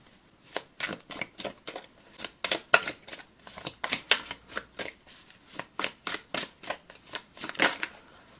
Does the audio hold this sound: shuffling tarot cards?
yes